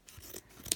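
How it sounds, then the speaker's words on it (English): Scissors snip through stiff paper while a shape is cut out for a painted Christmas gift bag, a few soft close cuts ending in one crisp, louder snip, heard without speech. "I just go round and snip to get my shape"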